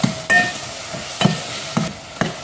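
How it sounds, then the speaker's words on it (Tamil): Tomatoes and onions softening in a pan as the base of a mutton bone curry: a soft, close sizzle punctuated by four or five distinct scrapes and clanks of a spoon stirring. "தக்காளி பழம் வெங்காயம் எல்லாமே நல்லா வதங்கி வந்துடுச்சு"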